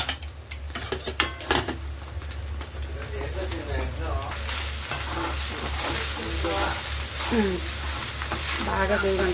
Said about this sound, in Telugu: బాగా వేగం కలిపి పెట్టుకోవడం